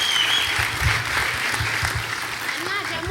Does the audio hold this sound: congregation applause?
yes